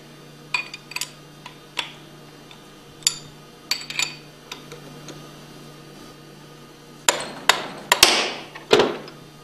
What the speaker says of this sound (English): we'll use a rubber hammer to remove the discharge manifold